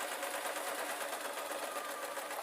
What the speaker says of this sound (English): I'm going to take the two ends when I get there and just sew upwards. So keep sewing.